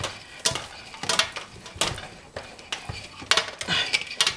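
Thick cold process liquid soap paste being stirred by hand in a pot, scraping and clinking in irregular strokes at close range with no talk.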